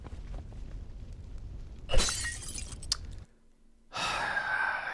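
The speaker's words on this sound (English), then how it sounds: "A stone smashes through the window and hits the floor near Willow's feet." Stone smashing through a window in the video game Reverse 1999, a sharp glass shatter burst, a brief sigh-like breath, then a short near-silent gap before ambient noise returns.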